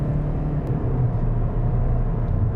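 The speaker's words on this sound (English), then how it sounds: "the noise inside the cabin is quite loud once the engine revs" Steady, loud low rumble of a 2022 Toyota Corolla LE engine and cabin noise while driving, a continuous droning hum with no talking.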